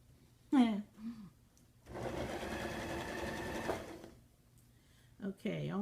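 Sewing machine stitching a curtain or upholstery hem in one steady run of about two seconds, close and clear, with a voice talking briefly before and after.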